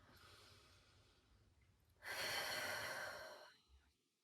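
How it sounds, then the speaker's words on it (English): A single deep, slow breath during a yoga session, a soft faint inhale followed by a louder, long airy exhale that fades out, close and alone. "Take a breath."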